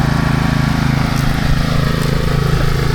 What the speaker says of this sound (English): The kids are on the new mower.